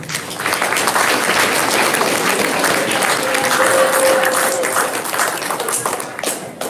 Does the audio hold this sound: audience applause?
yes